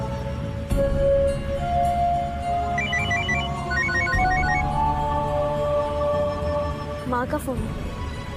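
A phone ringtone plays a repeating electronic melody over background music, fairly loud and close, with a short burst of other sound near the end.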